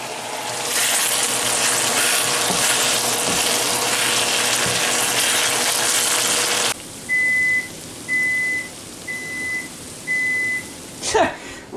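Chicken fries in a hot pan, giving a loud, steady sizzle as it is stirred for several seconds. The sizzle then cuts off, and four evenly spaced electronic beeps sound, ending with a brief clatter.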